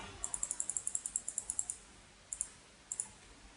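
Mouse clicks on a computer running Microsoft Excel 2003: a rapid, even run of about fifteen close, crisp clicks, then two short pairs of clicks after a pause, faint and alone without talk.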